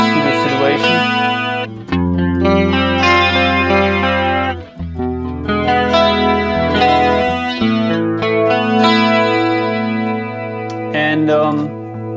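A clean electric guitar tone with chorus from a Valeton GP-200 multi-effects preset plays sustained chords and ringing notes, loud and close, with no talking.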